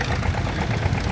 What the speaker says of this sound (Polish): No i ten małutki dieselek, no nie benzynka